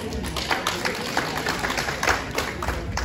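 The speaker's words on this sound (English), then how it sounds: "Let's clap for them." Audience clapping at a lighthearted couple's game show, a dense, loud burst of many hands that holds steady for a few seconds with no break.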